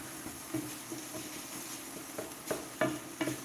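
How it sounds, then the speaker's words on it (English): Soy sauce hitting a hot pan of steak fried rice gives a steady, fairly quiet sizzle under occasional clinks and scrapes of a utensil stirring against the pan. "Let's give it some of that soy sauce there."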